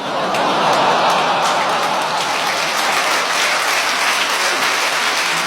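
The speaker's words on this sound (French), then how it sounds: "il vous fallait ça pour applaudir" Steady, dense audience applause at a French stand-up comedy show, a thick wash of clapping from a large crowd that holds evenly for several seconds, with faint laughter underneath.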